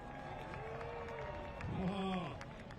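Speedway fans at Orange Show Speedway cheer after a Pro Late Model main event, with a distant crowd roar and scattered applause rising in the middle while an announcer talks over it.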